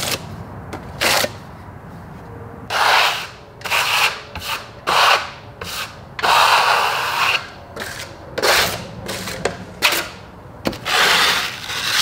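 Trowel spreading an Earthaus stone finish plaster base coat across a wall, repeated rough scraping strokes of about half a second to a second each, close and fairly loud, separated by short quiet gaps.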